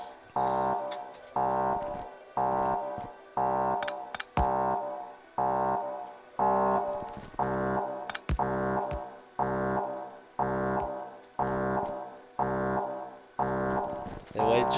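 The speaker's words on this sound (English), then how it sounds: "Something that sounds an alarm, like actually like an alarm." A repeating alarm in the Batman: Arkham Asylum video game, a loud honking tone pulsing about a dozen times at a steady rhythm of roughly one blast per second, with no talk over it.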